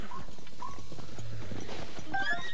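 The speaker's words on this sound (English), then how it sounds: "Oh, can we get a horse, maybe?" A horse in the video game The Legend of Zelda: Breath of the Wild moves close by in a short, busy stretch of hoof clatter and animal noise, with a few brief whinny-like squeals near the end.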